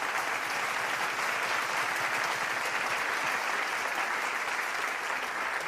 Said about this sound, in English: let us all welcome one another with a big round of applause